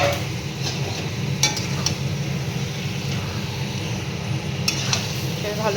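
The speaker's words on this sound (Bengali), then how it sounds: "এবারে আমি ম্যারিনেট করা মাংসটা দিয়ে দেবো।" Marinated chicken for a Bengali yogurt chicken curry is added to and stirred among fried onions in a pan; there is a steady sizzle, with scraping and clinks of utensil against metal over background noise.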